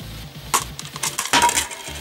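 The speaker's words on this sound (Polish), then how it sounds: "Oczywiście płyta musiała mi wypaść" A game disc drops out of a World of Warcraft: Warlords of Draenor collector's edition box, giving a few hard clattering knocks as it bounces and settles nearby, with no voices.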